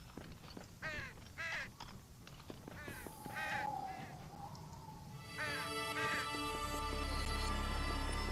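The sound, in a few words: Parrots making crow noises in the video game Sacred: Underworld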